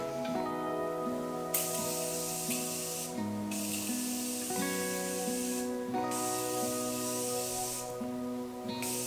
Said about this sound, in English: finish it off with a little bit of the Morphe setting spray